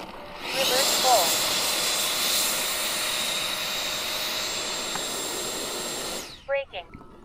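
The steady, high turbine whine of a radio-controlled Hornet model jet holds loud and even during a reverse roll, then cuts off abruptly, followed by a few brief voices.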